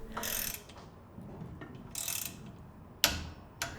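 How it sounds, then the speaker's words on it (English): Mechanical clicking and ratcheting from a torque wrench with a 5 mm bit tightening a bolt to 10 Nm while fitting the front fork of a Bullitt cargo bike, in several bursts with sharp clicks near the end, no talking. "you can tighten the bolt with a torque wrench and 5mm attachment to 10 Nm"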